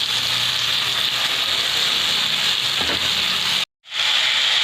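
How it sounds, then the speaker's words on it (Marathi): Safflower leaf greens hit a hot pan with a steady loud sizzle and hiss of frying, a continuous crackle broken by a brief moment of silence near the end. "यामध्ये आता आपण ही भाजी घालू।"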